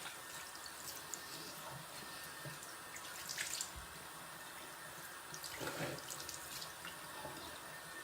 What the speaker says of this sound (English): So I'm gonna rinse this off quick.